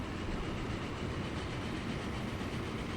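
A train rolls steadily along rails in the Transport Fever tycoon game, a continuous close rumble with faint clickety-clack running alone throughout.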